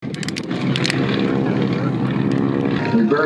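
A Nanchang propeller aircraft flying at the Geneseo airshow, giving a loud, steady, droning engine roar that holds throughout with a slight rise near the end.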